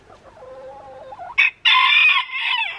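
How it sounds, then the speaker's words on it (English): A rooster crows loudly and close by in one long strained call, after a few softer clucks and an abrupt squawk. "Tanner didn't like Moose's crow, did ya?"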